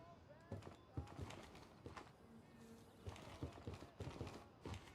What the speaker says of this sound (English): Been hearing some chirping.